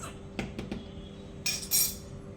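A spoon scraping and tapping while peanut butter is added to a homemade smoothie: a few quick metallic clinks come first, then a brighter scrape and clatter, all faint and close in a quiet kitchen.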